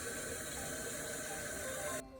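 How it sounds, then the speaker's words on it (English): Cold tap water pours into a pitcher for sun tea, a continuous hissing rush that stops abruptly near the end, leaving a quieter tail. "fill up the pitcher the rest of the way with cold water"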